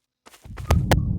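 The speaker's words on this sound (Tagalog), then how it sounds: "Heartbeat." Heartbeat effect in the shooter game Special Force Group 2, a few deep low thumps pulsing after a short silence, loud and close with no talk.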